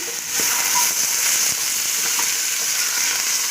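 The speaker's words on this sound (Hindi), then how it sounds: "ये चिकन डाल दूंगी।" Chicken pieces frying in a hot pan for hot and sour soup give a steady, loud, close sizzle with a few faint stirring clicks, no talk.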